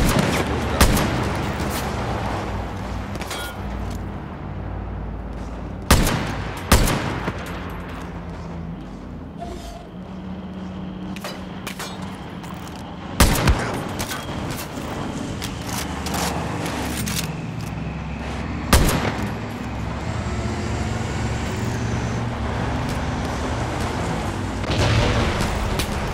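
Gunfire in the video game Far Cry New Dawn, repeated sharp shots and bursts over a constant rumbling game ambience, loud and spread through the whole stretch, with no talking.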